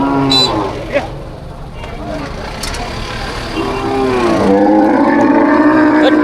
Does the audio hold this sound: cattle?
yes